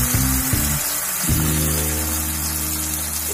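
Onion, tomato and spice paste fries in a pan with a soft continuous sizzle, while low tonal hums sound underneath at the start and again from about a second in.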